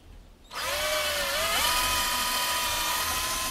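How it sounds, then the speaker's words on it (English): After a brief quiet moment, a power drill whirs up drilling pilot holes and runs continuously at high speed, close and steady, with its pitch rising slightly partway through. "we're just going to drill a couple little pilot holes here."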